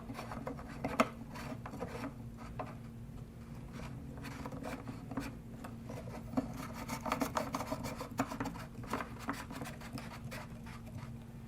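Pipe fittings are threaded by hand into the ports of a Hayward pool multiport valve, giving a close, quiet, continuous scratchy rubbing and grinding of plastic on plastic with small irregular clicks.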